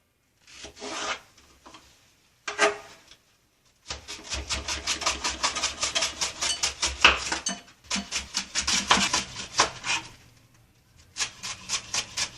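Onion for a stew being chopped small on a board, knife strokes in short rasping bursts that settle into a steady, fast run of close, loud cuts with brief pauses.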